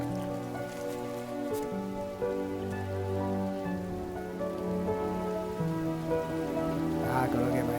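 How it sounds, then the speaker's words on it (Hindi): Heavy rain falls steadily in a film scene, its constant patter sitting beneath a prominent sustained musical score. "इतनी तेज बारिश में कौन आएगा"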